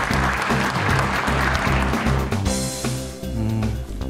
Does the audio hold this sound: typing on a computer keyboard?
no